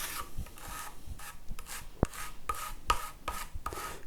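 Metal scraper rubbing finish into the wood grain of a Blackguard Esquire guitar body: repeated rasping strokes in an uneven rhythm, close and moderately loud, with a couple of sharper clicks, no voices.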